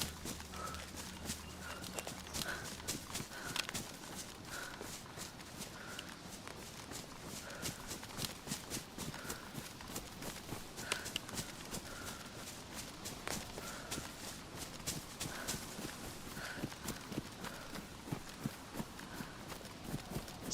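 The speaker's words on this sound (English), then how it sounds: "Footsteps are so much louder." Footsteps in the video game SCUM tread steadily and quickly in a regular rhythm of crisp, close thuds, continuing for about twenty seconds with no voices over them.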